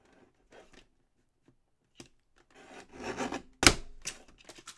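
Scissors or a trimmer work through a thick stack of layered recycled cards, with sparse faint scrapes and clicks building to a rasping cut and one sharp snap near the end.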